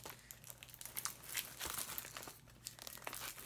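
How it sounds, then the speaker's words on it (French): Plastic wrap crinkles and tears as it comes off a Sharp Objects Blu-ray box set, with soft, close crackles and rustles running unevenly throughout at low volume. "Je vais déballer le coffret pour vous le montrer."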